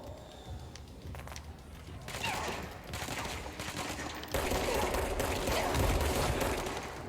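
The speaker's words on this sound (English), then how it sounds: "He got a machine gun." Machine gun fire in the video game Control, sustained rapid bursts that build in intensity and layer with scuffling movement and mechanical clatter, steady and fairly close throughout.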